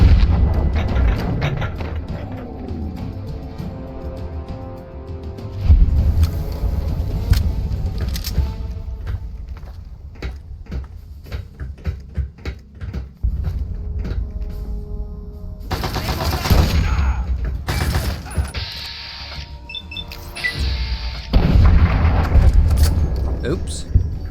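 Gunfire from a Fallout 3 / New Vegas game, scattered shots and bursts with heavier booms mixed in, loud and close, running under a voice talking throughout.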